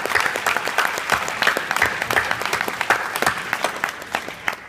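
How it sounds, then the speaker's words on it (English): An audience at a hospitality company employee gathering applauds long-serving staff, a full, continuous round of clapping with sharp individual claps standing out near the front, steady for several seconds. "Let's give a round of applause for this."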